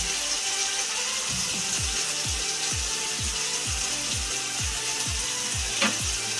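Spices with turmeric and salt being sautéed in a pan for chhanar kofta, a steady sizzle under a regular run of short scraping strokes about every half second, close with no speech.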